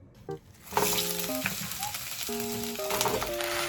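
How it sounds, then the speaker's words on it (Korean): Onions stir-fry in a pan at home, sizzling steadily and close after a short quiet start, while clear tonal beeps and chimes sound over the frying. "양파를 좀 많이 투명해지기까지 잘 볶아줘요"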